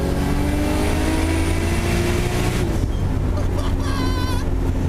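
A Mercedes E55 AMG with a supercharger and stock intakes drives along, a steady loud engine drone with wind rush throughout, shifting tone partway through.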